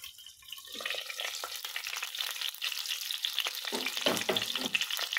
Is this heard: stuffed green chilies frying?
yes